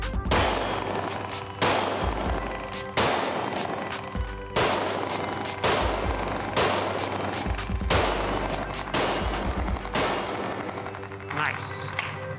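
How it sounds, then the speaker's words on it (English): Handgun shots ring out on an outdoor range, fired at three targets in quick strings of sharp, loud cracks that echo, with pauses between the bursts and faint voices in the gaps. "Let's do 3 shots on all 3 targets"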